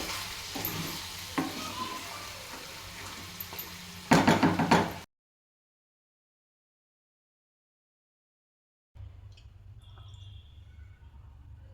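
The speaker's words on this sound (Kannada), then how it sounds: "ನೋಡ್ತಾ ಇರ್ಬೋದು ಯಾವ ಥರ ಕುದೀತಾ ಇದೆ ಅಂತ ಹೇಳ್ಬಿಟ್ಟು" Pepper fry sizzles and bubbles in a lidded pan, a steady crackling broken by a sharp clatter of the lid, then silence, then quieter simmering.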